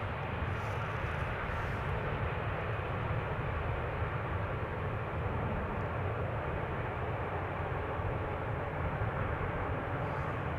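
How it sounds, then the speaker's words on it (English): A German Airways Embraer 190 flying for KLM arrives at Schiphol Airport from Leeds, a continuous broad jet roar that holds steady and loud for the whole stretch, with no talk. "Next up is a German Airways Embraer 190, flying for KLM, arriving from Leeds"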